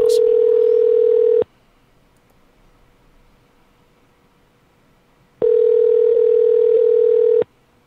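A Skype call rings out unanswered: two long, loud, steady electronic ring tones about four seconds apart, with near silence between them and no voices.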